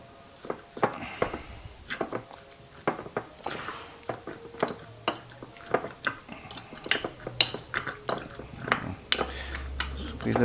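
A spoon clinks repeatedly against a glass while stirring sugar into an iced tomato drink, a quick, irregular run of sharp metallic taps and scrapes heard up close.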